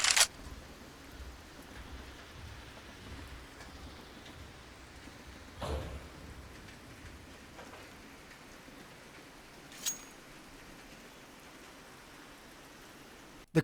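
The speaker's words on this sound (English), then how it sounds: "The quiet, peaceful rain" Quiet, steady rain ambience on the Train map in Counter-Strike 2, a soft continuous patter with a few faint distant knocks and clicks mixed in.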